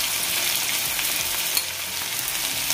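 Ground spice powders, turmeric, garam masala, cumin and black pepper, roasting in a hot pan, a steady close sizzle with faint stirring scrapes and no voices.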